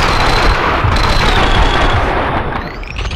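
Loud, dense gunfire from the PC shooter Max Payne 2 rattles in rapid automatic bursts without pause, punctuated by heavier booms, with game sounds all around.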